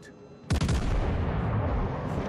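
Warship main guns fire in World of Warships Legends, a sudden heavy booming salvo of several close, rapid blasts that leaves a long, loud rumbling tail.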